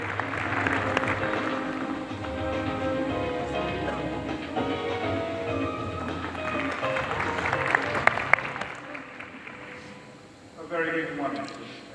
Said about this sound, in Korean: 차장님을 큰 박수로 무대에 모시도록 하겠습니다.